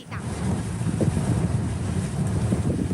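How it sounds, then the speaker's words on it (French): Strong typhoon gusts roar steadily, loud and close, with heavy wind buffeting and rumbling against the microphone throughout. "Des vents si forts qu'ils emportent tout sur leur passage."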